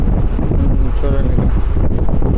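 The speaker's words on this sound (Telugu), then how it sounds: "ఇక్కడ కొంచెం గాలి ఎక్కువ ఉంటుంది." Strong sea wind buffeting the microphone aboard a boat off Coringa Wildlife Sanctuary near Kakinada, a loud continuous low rumble and roar, with faint voices partly mixed in.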